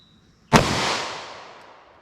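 A single sharp 9mm Speer Gold Dot gunshot fired in a hard steel barrier test cracks loudly once, its report decaying over about a second and a half outdoors.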